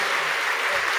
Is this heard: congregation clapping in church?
yes